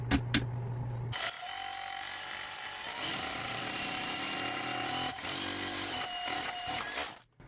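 A power drill bores holes for anchors in a small workshop, a loud continuous whirring grind running for several seconds after a short start-up, then cutting off abruptly.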